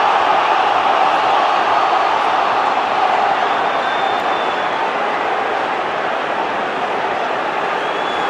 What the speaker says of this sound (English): Crowd are incensed here.